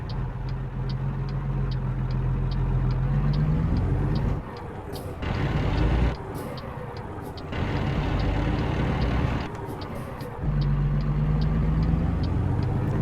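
A heavy truck engine in American Truck Simulator drones and revs, with abrupt drops and surges as gears change and grind, plus faint regular ticking throughout.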